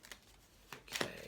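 An Ethereal Visions Illuminated tarot deck is shuffled in the hands, giving a few soft riffling swishes, faint and close, with the last one the loudest.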